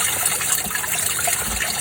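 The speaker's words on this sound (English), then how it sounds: "So now we're putting in the entire sample into water in a bucket so that we can properly sort it out." Stream sample water being poured into a bucket outdoors, a steady broadband rush of pouring and sloshing liquid that holds evenly throughout, close and fairly loud with no talking.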